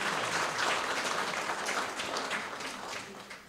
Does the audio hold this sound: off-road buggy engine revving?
no